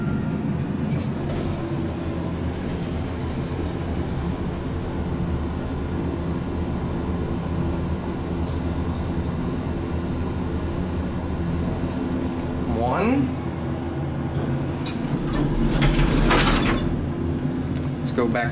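An Alpin-Otis public elevator in Quebec City runs with a steady, loud mechanical rumble. Brief sliding, whooshing sounds come near the end, and a voice is faintly present.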